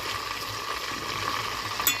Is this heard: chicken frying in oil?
yes